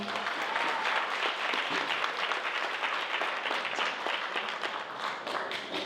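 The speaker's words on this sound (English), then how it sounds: "Please give her a round of applause." Steady audience applause fills a district evening program honoring Black excellence in Pleasanton, dense clapping from a sizable crowd holding an even level throughout with no voices on top.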